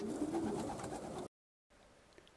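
Pigeons coo steadily and close by inside a transport truck used as a pigeon loft, and a brief dropout of silence is followed by faint room noise.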